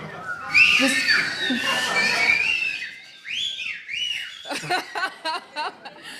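Shrill whistles ring out from several people at once, followed by laughter and chuckling in short bursts.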